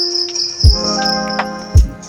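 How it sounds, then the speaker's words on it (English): Recorded cricket chirping played back from a small box at a zoo bird show, a steady high shrill trill with a couple of low thumps, loud and close. "I have a small voice record of insect name called cricket"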